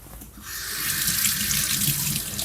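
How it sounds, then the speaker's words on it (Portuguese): Fresh herb leaves rinsed under a running kitchen tap, a steady close hiss of water splashing into the sink that starts after a brief pause and continues loudly to the end. "Vou só lavar, mas vou enxugar."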